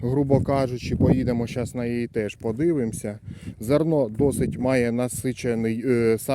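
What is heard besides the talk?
No everyday noise stands out behind the speech.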